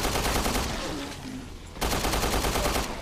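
Rapid automatic gunfire from a weapon in Resident Evil Revelations 2, loud and close, with dense continuous bursts, a brief lull near the middle, then the shooting resumes at full intensity.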